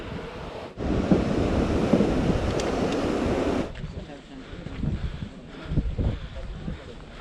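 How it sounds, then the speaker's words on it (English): A very cold glacier river flowing down from Everest Base Camp toward the Dudh Koshi River roars loudly at first, then drops to a quieter rush as someone talks over it. "The glacier river coming from the Everest Base Camp. So very cold, and this is mixing to Dudh Koshi River."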